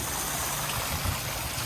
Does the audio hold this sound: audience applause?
no